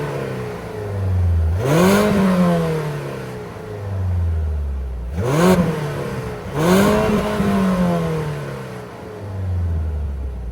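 A 2025 Mazda CX-70 plug-in hybrid's 2.5-liter engine fires up and revs in three rising bursts, each settling back to a low idle, close and loud with no talk.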